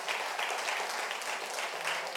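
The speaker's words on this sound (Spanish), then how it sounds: "Le damos un aplauso a la presencia de Dios." A church congregation claps together in a steady, continuous burst of applause during a sermon, moderately faint and even throughout, with no speech.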